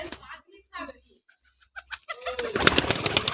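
Pet Teddy and Rampuri pigeons give low, rolling coos close by, a few spaced calls early on, then a busier, louder burst of calls and rustling toward the end, with someone speaking briefly.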